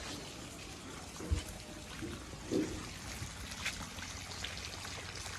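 Monsoon rain drips and trickles steadily onto a wet village street, a faint, continuous watery patter with a few slightly louder drops and no talk.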